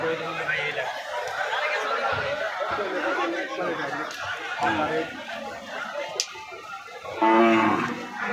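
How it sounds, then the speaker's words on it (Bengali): Cattle low amid the chatter of a busy market crowd at Chandimura bazaar in Cumilla before Eid, with a clear moo rising near the end over the constant background talk. "অনেক চমৎকার চমৎকার বিশাল বিশাল গরু।"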